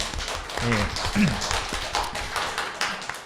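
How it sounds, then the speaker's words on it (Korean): Scattered clapping from a small group mixes with voices and chatter, fairly close and moderately loud throughout. "박수 부탁드리겠습니다"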